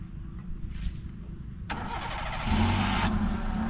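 A car being driven uphill by a new driver cranks and restarts after stalling, with a sharp starter catch followed by the engine settling into a rough, louder idle, close and without talk.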